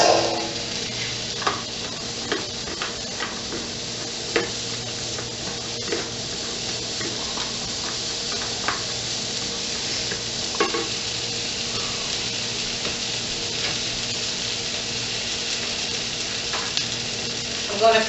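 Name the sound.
carrots sautéing in a pan for chicken soup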